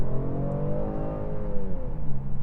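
A 2019 Genesis G70 with a twin-turbo 3.3-litre V6 accelerating hard, its engine note climbing steadily in pitch as a loud, smooth rising drone heard from inside the car.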